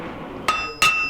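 Hammer striking hot metal on an anvil in a blacksmith shop, three sharp ringing blows with a bright metallic ring that sustains between strikes.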